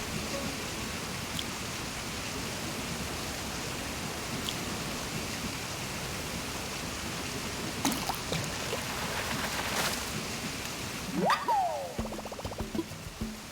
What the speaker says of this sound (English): it's right next to the waterfall